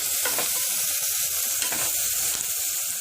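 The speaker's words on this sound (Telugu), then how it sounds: "అలాగే కొద్దిగా కరివేపాకు వేసుకొని ఫ్రై చేసుకోవాలి." Onions, green chillies and curry leaves fry in hot oil for a samosa filling. The close, steady sizzle runs throughout, with soft stirring scrapes and no voices.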